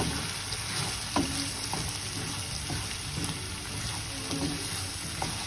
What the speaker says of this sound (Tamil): அது வரைக்கும் நல்லா ஃப்ரை பண்ண போகிறோம்